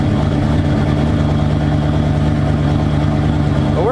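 A race car engine runs steadily at idle right after a worn-out starter was swapped, a loud, continuous low rumble with harmonic drone that holds throughout, with a brief rising rev blip near the end.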